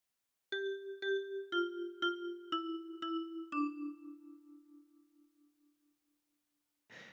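Seven bright plucked notes on a ten-key kalimba, thumb-plucked in an even, gentle melody from Twinkle Twinkle Little Star, each ringing like a small chime, the last one fading out slowly.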